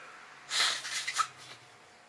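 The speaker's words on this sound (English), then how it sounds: "that's two of these things filled up from blowing my nose" A person blows their nose into a tissue, one strong wet honk lasting about a second followed by a couple of shorter snorts, close and fairly loud against a quiet room.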